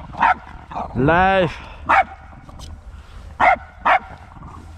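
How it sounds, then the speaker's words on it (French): A jealous dog barks and yelps in short loud bursts, one drawn-out whining howl among them, while a person talks over it close by. "Le chien le plus jaloux de France."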